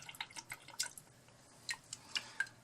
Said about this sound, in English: you can still hear water sloshing in this thing because this is a pretty tight filter